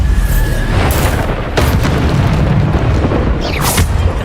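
A Bombarda blasting spell explodes in Hogwarts Legacy, a loud dense boom that fills the whole moment, with sharp crackling bursts layered over a continuous rumbling roar.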